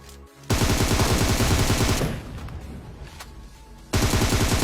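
Gunfire in the game PUBG Mobile at a military base, loud rapid automatic bursts that pause briefly in the middle and then resume, close and intense with no talk.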